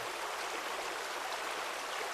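Steady, faint rushing of flowing water from a video game's Niagara water effect, continuous and even like a small stream, with no voices.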